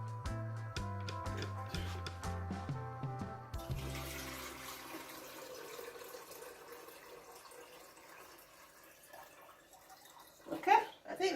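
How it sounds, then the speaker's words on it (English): Tap water rushes steadily into a kettle, a continuous close hiss that follows a few seconds of tonal background sound and swells slightly near the end. "So let's fill the kettle up."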